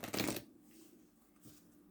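Tarot cards shuffle in one brief, close riffle at the start, followed by quiet handling.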